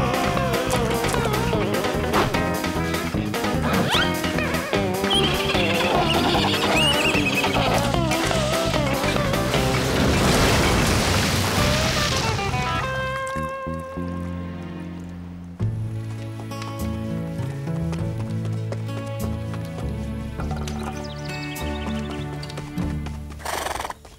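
Cartoon horses in a Lucky Luke episode whinny loudly over galloping clip-clop hoofbeats, backed by busy orchestral music that thins out partway through; no dialogue.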